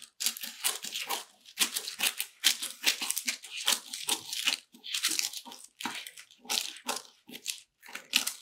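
Small scissors cut through a paper sewing pattern along a line, a close, quiet series of crisp crunching snips in an irregular rhythm with short gaps between cuts.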